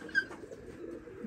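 Pigeons in a renovated rooftop pigeon loft give a faint, soft coo, brief and close, over quiet background.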